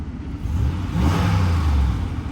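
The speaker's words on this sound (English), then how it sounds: "Let's give this engine a little rev." Engine of a flood-damaged car revving once at an auction yard, a steady low hum that swells smoothly and holds, close and fairly loud with no talk.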